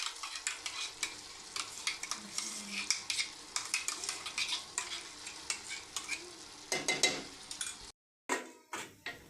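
A spoon stirs a paste of ground onion, tomato and cashew in a sizzling pan for cashew masala. Steady, repeated scraping strokes run over a soft fry, with a short silent gap near the end before the stirring resumes.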